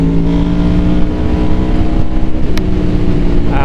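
Honda VFR800 V4 motorcycle with VTEC, its engine held at a steady harsh drone with layered harmonic tones, loud and close throughout, with no talk over it.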